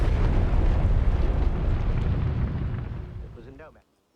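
A huge mine detonates at the Battle of the Somme, a deep, sustained roaring rumble that fills the opening seconds, then fades and cuts off.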